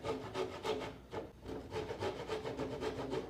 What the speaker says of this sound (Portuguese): Você faz uma marquinha nesses 2 com o serrote.